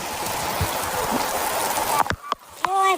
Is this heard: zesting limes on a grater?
no